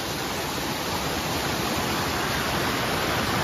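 A waterfall behind a Chhatrapati Shivaji Maharaj temple roars as a steady, dense, close wash of rushing water, with no other sound standing out.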